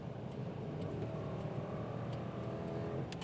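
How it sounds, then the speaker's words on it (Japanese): A Cadillac Seville STS accelerates hard from speed, with a continuous, strong engine roar heard from inside or nearby, holding steady at a high level throughout. "どんな速度からでもアクセルさえ踏めば強烈な加速が得られます"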